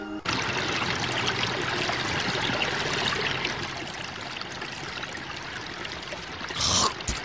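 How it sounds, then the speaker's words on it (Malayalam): Water pours steadily from an open household tap, a close, continuous trickling flow with a brief louder splash near the end. "അമ്മേ, പൈപ്പ് എന്തിനാ ഇങ്ങനെ തുറന്നിട്ടിരിക്കുന്നത്? വെള്ളം ഇതാ പാഴാവുന്നു."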